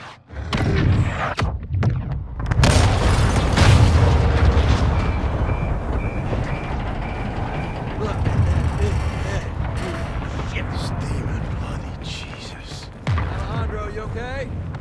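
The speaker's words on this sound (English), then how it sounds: "All stations, prepare for the boom!" Missile and oil rig blowing up in Call of Duty: Modern Warfare II, a loud sustained roar of blast and rumble lasting many seconds with a fresh hit near the end, under game voices and music.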